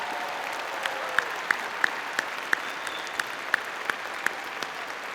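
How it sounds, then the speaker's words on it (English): Light applause at a fall commencement ceremony for veteran graduates and their families, a soft continuous patter of clapping from a large hall with a few distinct louder claps, no speech. "Let's give these officers, our veteran graduates, and our veterans and their families a round of applause"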